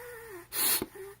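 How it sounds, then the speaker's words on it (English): A single breath drawn through an activated carbon PM2.5 anti-pollution mask with a tight seal, heard as a brief, close, breathy hiss lasting under half a second, with faint voiced sound before and after. "Now, if I breathe into this one,"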